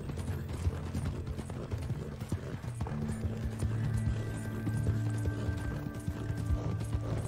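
Horse hooves clip-clopping in a video game, a steady close rhythm of hoofbeats over a low mechanical hum.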